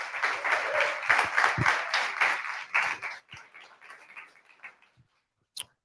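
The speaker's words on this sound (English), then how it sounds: "So give those organizations a round of applause as well." An audience at an evening event applauds its sponsors: a burst of dense clapping that holds for about three seconds, then thins into scattered claps and fades to near silence, with one last sharp sound at the end.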